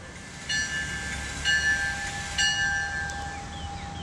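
A MARC commuter train bound for Washington DC departs along the railroad line, its horn sounding in three steady tones over a continuous rumble, fairly close.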